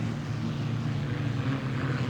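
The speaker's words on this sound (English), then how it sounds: "That's a Chinook helicopter engine, and it is really turning on right now." A race vehicle powered by a Chinook helicopter turbine engine runs at over 120 mph during an oval race, giving a steady, loud droning roar with a low humming tone that holds constant throughout.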